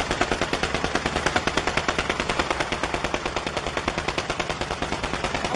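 Sustained machine-gun fire aimed at a fortified position: a fast, steady stream of loud, evenly spaced bursts running continuously for several seconds with no talking.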